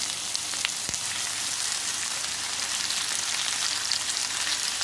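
Tomato with ginger and green chili sautéing in a pan for masala puri, giving a steady, close hiss of frying with a faint clack near the start, no voices.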